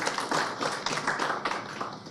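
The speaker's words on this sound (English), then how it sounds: "Please, another round of applause for him." Audience applause at an economic outlook event in Nigeria, a dense patter of clapping that stays fairly loud and steady from start to finish.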